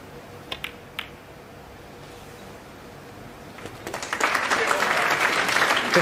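Audience applause at a snooker match between Ronnie O'Sullivan and John Higgins, a few isolated claps at first, then a crowd's clapping swelling in from a distance and building to steady moderate applause.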